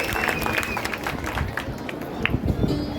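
An audience claps after a dance performance at a village folk arts show, steady scattered applause mixed with crowd noise, and a voice briefly speaks over it.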